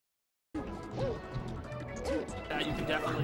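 Forward smash attacks landing in a Super Smash Bros. Melee grand finals match between Dr. Mario and Sheik: sharp game impact hits over crowd noise and excited commentary.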